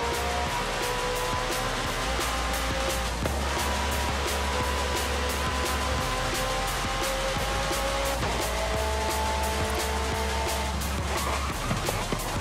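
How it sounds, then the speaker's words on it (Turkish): A McLaren or Supra engine in the racing game Forza Horizon 5 drones steadily and loudly with rising and falling revs, mixed with background music throughout. "Arabayı bir dinleyelim ya müzikle birlikte."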